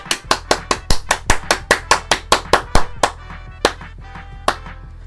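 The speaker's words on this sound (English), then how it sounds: "slow that clapping down" A single pair of hands claps sharply and close in a fast, steady rhythm for about three seconds, then slows into a few spaced, scattered claps before stopping.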